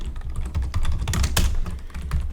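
A computer keyboard is typed on rapidly while coding in Python on Linux Ubuntu. The keystrokes are close, clattering and irregular, with a few louder strikes, over a steady low background hum.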